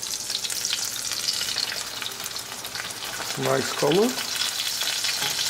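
Coconut-breaded chicken breasts sizzle and fry steadily in a pan over medium gas, with a brief louder burst of stirring or turning partway through and a short spoken remark.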